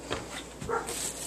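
A dog gives a couple of short, fairly faint barks indoors near a kitchen during fish fry cooking, with no talking over them.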